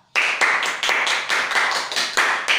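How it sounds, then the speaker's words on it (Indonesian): Classroom applause for a student teacher during a microteaching practice session, a burst of clapping that starts abruptly and continues steadily for a couple of seconds, close and fairly loud with no talking over it. "berikan aplaus untuk Angga"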